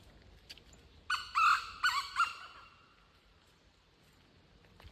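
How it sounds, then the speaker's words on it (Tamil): A small bird calls in the evening in Munnar, giving a quick cluster of about four sharp calls over roughly a second, then quiet surroundings with faint background noise. "ஒரு குருவியோட சவுண்டு கொஞ்ச நேரத்துக்கு ஒருக்க கொஞ்ச நேரத்துக்கு ஒருக்க கத்துது"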